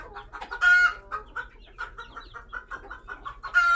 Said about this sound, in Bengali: এই হলো আমার মুরগির ফার্ম।